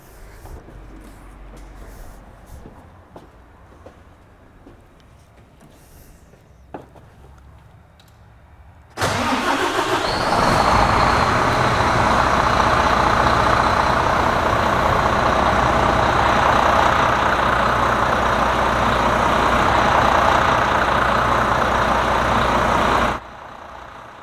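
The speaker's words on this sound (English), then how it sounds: "let's try to crank the engine." Truck engine cranks and catches abruptly, then holds a loud, steady idle close by for about fourteen seconds before cutting off, after a quiet stretch of faint background noise.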